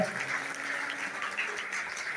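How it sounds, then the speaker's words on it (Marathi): Sustained applause from an audience at a felicitation ceremony, an even wash of clapping hands at moderate volume lasting the whole stretch, no voices standing out. "जोरदार टाळ्या वाजवायच्या आहे"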